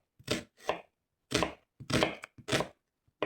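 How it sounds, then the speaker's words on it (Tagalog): Knife slicing red onion on a cutting board, a series of distinct chopping strokes in quick bursts, close and fairly loud with brief pauses between cuts. "So, mag-slice na tayo ng sibuyas."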